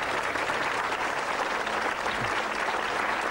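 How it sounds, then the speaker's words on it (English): An audience at a magic performance bursts into sustained applause, a dense steady clatter of many hands clapping throughout, with a faint voice underneath. "I appreciate the applause."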